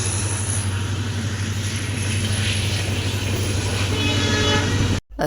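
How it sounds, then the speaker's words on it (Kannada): A train roars past close by in a loud, continuous rumble, with a horn-like tone rising near the end before the sound cuts off. "ಅಷ್ಟರಲ್ಲಿ ಟ್ರೈನ್ ಬಂತು"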